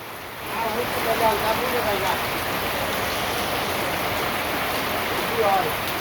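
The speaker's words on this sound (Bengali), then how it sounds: "এই যে বৃষ্টি নামছে, বৃষ্টি শুরু হয়ে গেছে।" Rain pours down outdoors in a steady, dense hiss that holds at an even level throughout, with a voice speaking over it now and then.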